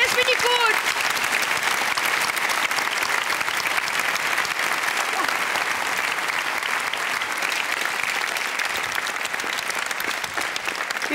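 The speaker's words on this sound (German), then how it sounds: "Mei, da gibt's einen Applaus." Sustained, dense applause from a TV studio audience at a spring entertainment show, steady and loud throughout with no pauses.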